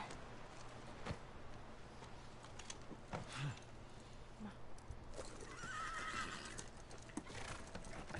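A horse in The Last of Us Remastered gives a neigh while its hooves clip-clop, fairly quiet and mixed with other game sounds, the whinny rising near the middle and footfalls scattered throughout.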